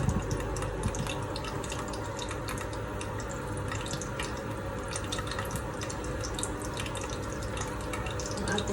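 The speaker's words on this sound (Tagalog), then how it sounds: "maglagay tayo ng mustard seeds" Mustard seeds dropped into hot oil for bhaji curry hiss and crackle continuously, a dense, close sizzle with fine popping throughout.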